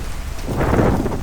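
Heavy rain pours down at a hotel during a lightning storm, a loud dense roar of falling water swelling as a deep thunder rumble rolls in midway, with no voices.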